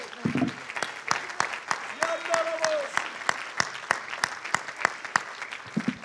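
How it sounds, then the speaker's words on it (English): Hands clapping in a church worship service, sharp evenly spaced claps in a steady rhythm, fairly quiet, with a sung or sustained voice briefly audible in the middle. "Clap your hands unto Him."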